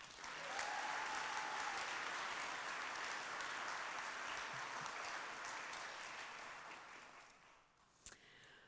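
A graduation ceremony audience for new doctoral and master's students applauds in a sustained, even wash of clapping that gradually fades, with one sharp knock near the end.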